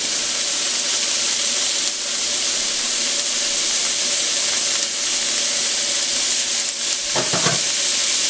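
Onions and garlic frying for shrimp fried rice, a loud continuous hiss and sizzle of hot oil with a brief burst of stirring near the end.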